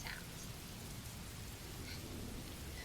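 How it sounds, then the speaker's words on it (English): Steady, faint rainfall with a soft, even hiss of drops on surfaces and a low rumble underneath, continuous and without any voices. "You all get all the lovely rain sounds."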